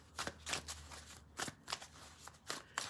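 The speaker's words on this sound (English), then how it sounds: "Have your oracle cards here. We're going to shuffle it" Oracle cards being shuffled: a series of quick riffling bursts and soft slaps, close and fairly quiet.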